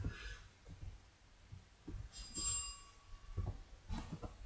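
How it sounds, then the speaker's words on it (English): A house doorbell rings once in a quiet room, a faint, short electronic chime heard at a distance. "That's my doorbell."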